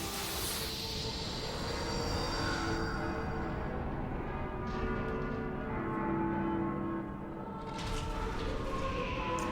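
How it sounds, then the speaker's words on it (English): Clock tower bells from Final Fantasy Versus XIII ring out in sustained, overlapping tones over a dense rumbling ambience, steady and moderately loud throughout, with no voices. "We're hearing the clock tower from Final Fantasy Versus 13."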